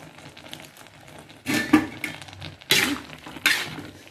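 Chopped green onions tossed into a pan with oyster sauce, a utensil scraping and clattering against the metal in a few short bursts with quiet gaps between.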